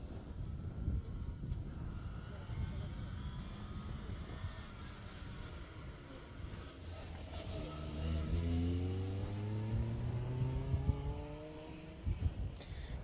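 Car 70, a class B competitor on a Jersey Rally stage, passes with its engine note rising and falling from far off to fairly near and then fading, with wind buffeting the microphone.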